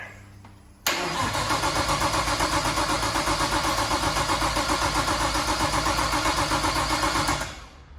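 A Nissan R33 with an RB25DET engine, just back together after fuel injector work, cranks and fires about a second in, then runs loudly with a steady rhythmic idle for several seconds before cutting off.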